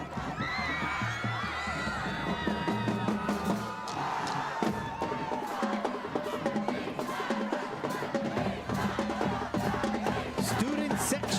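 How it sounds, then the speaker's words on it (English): Student section cheering for the Wildcats at a high school football game, a crowd of voices shouting and whooping continuously, with whistles and chants, moderately distant. "Student section cheering on the Wildcats"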